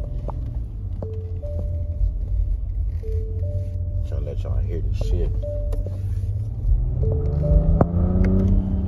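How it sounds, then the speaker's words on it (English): Inside a Nissan Rogue, the 3-cylinder turbocharged engine drones low and steady, then climbs in pitch as it revs near the end, while someone talks over it. "this joint is a freaking a V3, bro, a 3-cylinder turbocharged engine."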